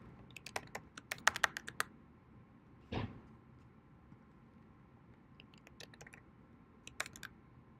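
A password is typed on a computer keyboard in two quick bursts of light clicking keystrokes, separated by a single louder key press and a pause, in a quiet room.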